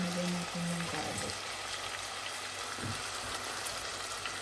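Garlic sizzles in hot oil in a pan, with onions already browning, as the base for beef caldereta; a steady, close frying hiss runs throughout with a brief stir near the start.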